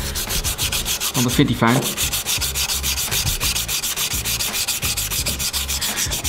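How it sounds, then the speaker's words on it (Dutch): Fine sandpaper rubs rhythmically back and forth over segments from a Piaggio Zip scooter, a steady close scratching stroke repeated many times, with a brief spoken remark partway through. "Ik ga ze even opschuren. Doe het met fijn schuurpapier."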